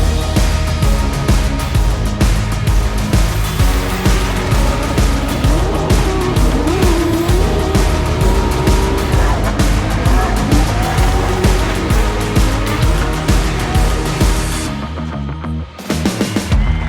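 Drift cars at Drift Masters Germany skid across the track in a loud, sustained mix of squealing tires and revving, roaring engines that continues almost without a break before it drops off near the end.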